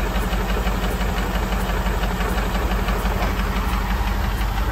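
A 2007 Mercruiser 8.1 Horizon boat engine runs rough and misfiring, a loud continuous rattling knock close by with no pauses.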